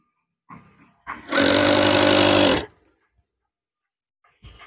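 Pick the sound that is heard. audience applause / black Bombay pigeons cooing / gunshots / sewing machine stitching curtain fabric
sewing machine stitching curtain fabric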